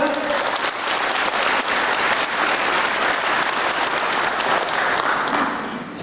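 Sustained applause from a crowd at a political campaign rally in Tochigi, Japan, a steady dense wash of clapping that fills the whole stretch, with faint voices underneath.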